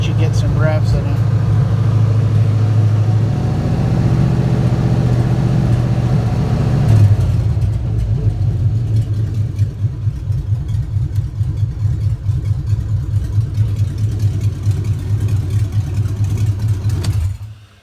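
A junkyard 5.3 LS V8 in a 1955 Buick Special revs up, climbs in pitch, then drops back to a loud, steady lumpy idle that carries on to the end, heard up close.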